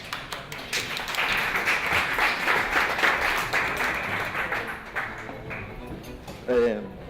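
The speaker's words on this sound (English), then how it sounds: "Thank you very much, and a round of applause for Telmo Perez." Conference audience at a startup summit panel applauding the moderator, sustained clapping across the hall that thins out toward the end as a voice and a brief tap come in.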